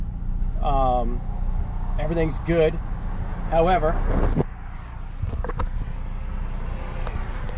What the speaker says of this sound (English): So now the car is idling fine.